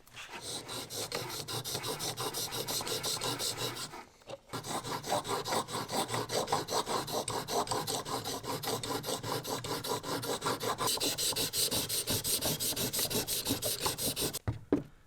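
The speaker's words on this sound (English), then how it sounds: "my chisel's set to 25 degrees, so I'll start sharpening it." A chisel ground at 25 degrees being sharpened on a cheap whetstone: continuous, rhythmic rasping strokes of steel against stone, loud and close, with one brief pause partway through and no talk.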